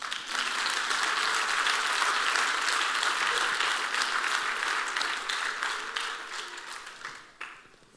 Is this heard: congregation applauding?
yes